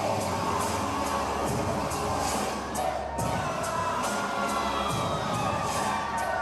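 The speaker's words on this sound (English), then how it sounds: "the crowd here at Oklahomania 2 is showing favoritism" A wrestling event crowd at Oklahomania 2 roars and cheers continuously, loud and dense, with shouting voices and rhythmic chanting surges throughout and a brief dip partway through.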